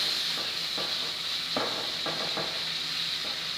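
Buttered shrimp sizzle steadily in a hot pan, a constant bright frying hiss with a few soft stirring clunks scattered through, close and moderately loud with no talking.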